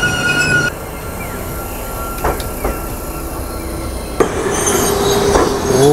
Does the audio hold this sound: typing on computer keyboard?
no